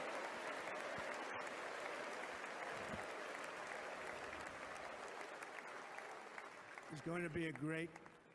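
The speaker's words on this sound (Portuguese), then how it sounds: "Eles se erguem e o público aplaude." Crowd at a political rally rising to its feet and applauding, a dense sustained wash of clapping and cheering for several seconds that thins out before a voice breaks in near the end.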